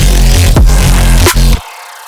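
A heavy neurobass synth patch built in Serum plays in its original stereo form, a thick, loud, growling bass tone with two brief dips before it cuts off abruptly, leaving silence.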